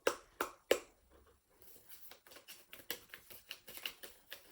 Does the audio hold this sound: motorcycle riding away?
no